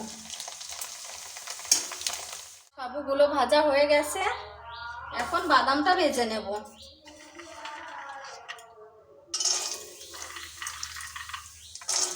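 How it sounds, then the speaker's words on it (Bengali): Sabudana and peanut snacks fry in a pan with a bright sizzle, broken by stretches where a person talks over the cooking, the frying hiss returning loudly between speech. "বাকিগুলো একইভাবে দিয়ে ভেজে নেব"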